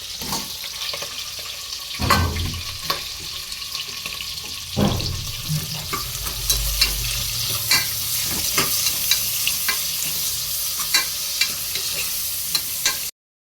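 Green chilli and onion frying in hot oil, a loud continuous sizzle with rapid repeated spatula scrapes and clacks against the pan, close and busy throughout.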